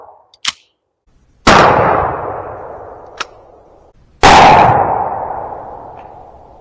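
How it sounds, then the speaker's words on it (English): Two loud, close shotgun blasts from a Winchester 12 gauge firing Federal Hi-bird 2.75-inch shells loaded with No. 6 shot at a target 20 yards away through a modified choke, each with a long ringing outdoor decay, plus a couple of sharp clicks. "Let's shoot this 12-inch bullseye target here from 20 yards with this modified choke"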